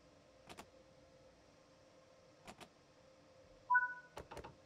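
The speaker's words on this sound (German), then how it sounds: "wir verriegeln die Türen" Train doors locking on a DB class 182 S-Bahn in Train Sim World 3: a few quiet mechanical clunks and clicks spaced apart, then a short rising electronic tone followed by a cluster of latching thuds.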